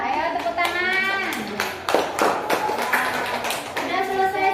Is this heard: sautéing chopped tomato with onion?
no